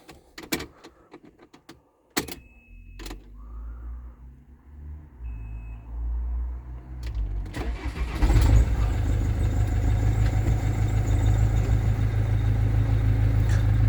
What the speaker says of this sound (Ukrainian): автомобіль будемо запускати.